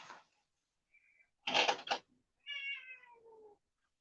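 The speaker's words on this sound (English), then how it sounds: "That's that cat, y'all." A cat gives a couple of short, nearby meows and a drawn-out wavering call between quiet gaps, with a brief clatter in the middle.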